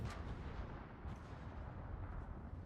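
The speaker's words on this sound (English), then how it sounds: "Oh, I saw an explosion." Distant ship explosion in the naval combat game World of Warships, a faint low rumbling blast spread over a steady background roar.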